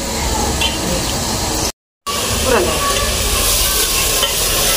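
Onions and chillies fry in a pan with a loud, constant hiss and crackle. A brief dropout breaks the sizzle midway, and no one talks.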